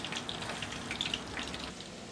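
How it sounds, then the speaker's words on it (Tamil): Chana dal fries in oil over medium heat, giving a faint, soft crackle and light bubbling with scattered small pops. "இந்த கடலைப்பருப்பை அதே மாதிரியே பொரிச்சு எடுக்கலாம் எண்ணெயில் மிதமான சூட்டில்."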